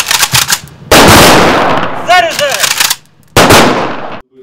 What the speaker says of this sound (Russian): Сегодня оружейными выстрелами у пожарной части номер 126 сотрудники МЧС почтили память погибших товарищей.